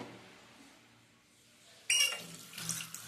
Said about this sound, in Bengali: ভালো করে জলটা ঝরিয়ে নেবো